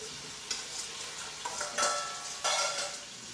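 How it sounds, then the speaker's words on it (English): Zucchini and celery sizzle steadily in a hot pan as they are stir-fried, with a few louder scrapes and clatters as they are stirred. "keep stir frying them"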